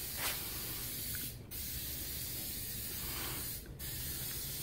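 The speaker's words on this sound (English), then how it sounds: "when he's done spraying the epoxy" A spray gun applying epoxy adhesive inside a 2011 Volkswagen Tiguan for a headliner replacement hisses steadily, briefly dipping twice as the nozzle pauses, with a low rumbling hum underneath.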